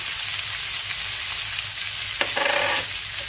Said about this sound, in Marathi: आणि हे पुन्हा व्यवस्थित मी परतून घेणार आहे।